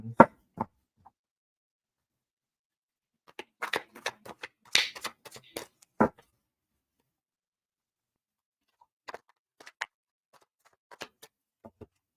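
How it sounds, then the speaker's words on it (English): A tarot deck is shuffled by hand, giving quiet, scattered clusters of soft card taps and riffles separated by long silent gaps, with no talking. "I'm gonna finish shuffling these cards"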